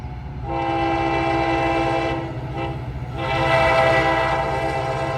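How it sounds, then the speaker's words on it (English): A commuter train horn sounds in sustained blasts over the low rumble of an inbound train led by locomotive 121 arriving at the Mount Juliet platform, loud and close, with no talking. "back to the platform for an inbound train, this one with Loco 121 at the lead."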